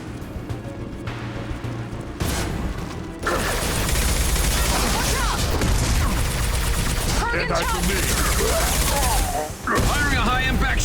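High-impact gunfire in the Mass Effect 2 game, a dense run of loud bursts and booms over a busy mechanical din, with in-game voices calling out across the mix.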